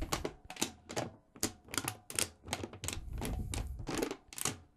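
A run of sharp, dry cracks and snaps from a drum head being seated, about a dozen in quick irregular succession, close up with no voices.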